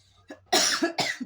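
Several sharp coughs from one person, a short single cough followed by two loud bursts close to the mic, indoors at a home lunch with no talk.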